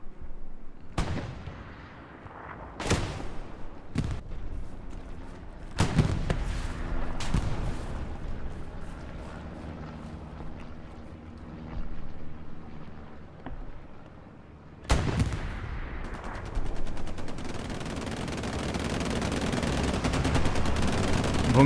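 Rocket and artillery fire in Hell Let Loose on Omaha Beach: heavy booming blasts land at intervals, some close and loud, with a rumbling battlefield bed between them and a big impact near the middle, then sustained roar.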